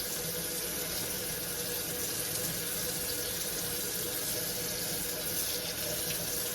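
Hot water runs steadily from a kitchen tap over packaged chicken, a constant hissing splash with no talking.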